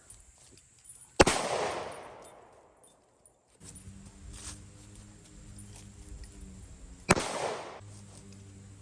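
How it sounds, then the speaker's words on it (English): A 9mm Defender pistol round fires at soft armor, two sharp loud outdoor gunshots several seconds apart, each with a ringing decay, and a low hum between them. "So the round I'm using today is a 9mm Defender."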